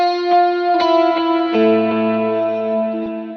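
Lead electric guitar plays a simple verse riff from a worship song with effects engaged, sustained notes ringing with chorus, distortion and echo tails, loud and alone with no talking.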